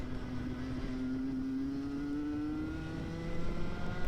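Racing kart engine running on track during a restricted masters race: a close, continuous buzzing drone that climbs steadily in pitch as the kart accelerates, with no talking.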